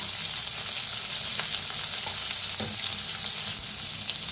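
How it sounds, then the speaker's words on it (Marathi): Spices sizzling with turmeric in a hot pan, a dense continuous close frying hiss with occasional soft scrapes of stirring throughout. "छान भाजायला आले, मस्त भाजलेलं आहे।"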